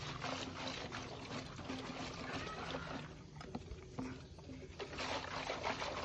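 Vinegar sloshes inside a rusty Honda C70 fuel tank as it is shaken by hand, the tank's expired rubber seal cracked and leaking. A close, continuous splashing and rattling churn holds steady throughout with no pauses.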